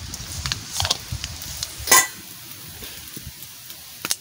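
Mustard seeds hit hot oil in a pan, making a soft crackling sizzle with scattered pops and a sharper burst midway, plus a few faint utensil clicks; no one speaks.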